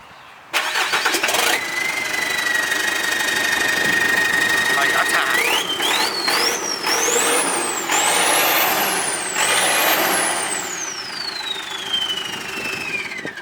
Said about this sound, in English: Tell me that's not the coolest sounding Toyota ever.